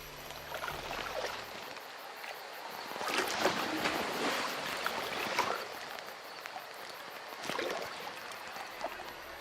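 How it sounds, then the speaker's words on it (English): Water splashes and sloshes in a dark river in the Outlast 2 video game, with soft irregular bursts over a quiet ambient background and no voices. "the sound of water splashing as you're followed down a dark river"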